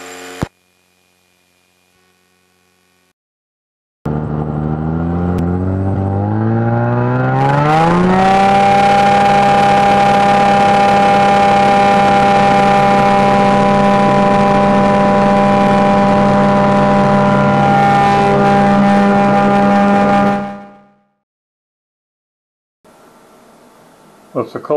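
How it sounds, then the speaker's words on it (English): A light aircraft engine on a snowy winter airport apron, starting after a pause, rising in pitch as it spools up, then holding a loud, steady drone for about twelve seconds before cutting off abruptly. "We're taxiing Charlie, headed across the apron to Alpha."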